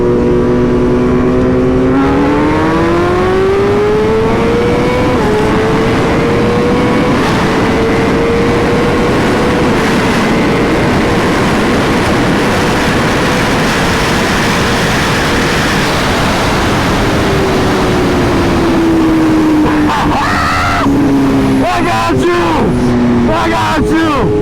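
BMW M1000RR and Ducati V4S superbikes racing side by side in second gear, a loud sustained engine howl with rising and shifting pitch tones over heavy wind rush, changing near the end.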